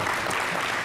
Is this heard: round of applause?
yes